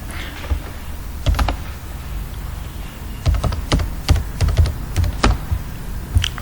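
Typing on a computer keyboard while working in Excel: close, irregular clusters of crisp key clicks over a steady low background hum, with no speech.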